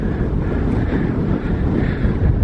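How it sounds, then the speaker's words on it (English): Strong desert wind roars and buffets the microphone in a continuous, loud low rumble that persists for the whole moment, with no voices over it. "It's very windy today"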